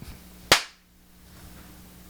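A single sharp hand clap, close and crisp, standing alone against quiet background hum.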